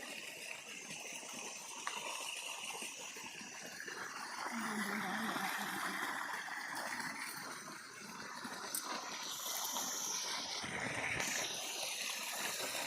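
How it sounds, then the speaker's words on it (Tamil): Steady rushing and gushing of water pouring out of a water tank, continuous and fairly loud, with outdoor background noise throughout. "இதுலேருந்து தண்ணி குதிச்சு அப்படியே போயிட்டு இருக்கு"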